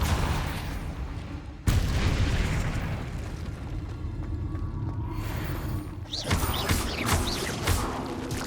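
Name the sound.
Depulso spell cast in the video game Hogwarts Legacy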